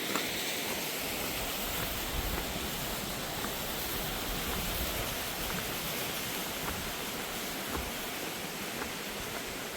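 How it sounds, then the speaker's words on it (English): Rausch Creek, a stream on the Appalachian Trail near Rausch Gap in Pennsylvania, rushes with a steady, dense, unbroken roar of flowing water, close and constant throughout with no voices. "That's the Rouch Creek."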